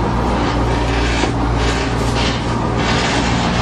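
A 7.3 diesel school bus engine idles after a cold start on a February morning, a loud, steady, low rumble holding an even drone the whole time, with no talk over it.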